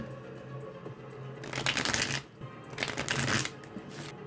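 Starseed oracle cards being shuffled up close in two bursts of crisp riffling and flapping, separated by a short pause, with no talking.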